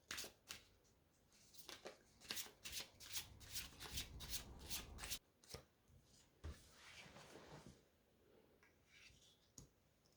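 Tarot cards are shuffled close by in quick, crisp riffles, a dense run of papery flicks followed by softer, sparser card handling, fairly quiet and without speech.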